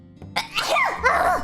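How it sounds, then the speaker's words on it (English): A single forceful sneeze, near and fairly loud, with a sharp burst of breath followed by a short voiced trailing sound. "the sound of me forcing air out of my nose at very high speeds"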